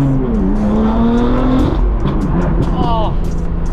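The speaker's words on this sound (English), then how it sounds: "the only issue with this exhaust is it sounds so exotic and unique" A BMW M4 with an aftermarket exhaust revs high and loud close up, its engine note climbing and falling in an exotic, race-car-like howl while people talk over it.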